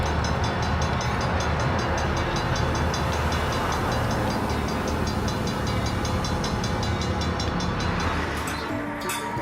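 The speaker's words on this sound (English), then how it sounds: "Here we see P31 making one last move before it's ready to depart for Asheville." An HO scale model freight train making a switching move in a paper mill yard layout, a steady continuous rumble and rolling hum held at even loudness throughout, with faint rhythmic clicking above and no talk.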